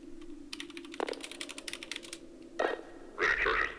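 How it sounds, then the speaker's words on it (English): Rapid keyboard typing in a Half-Life 2 roleplay, a quick run of close, crisp keystrokes broken by a couple of louder clacks, ending in a short burst of bright radio-like noise. "they're going to type this simple message inside their radio"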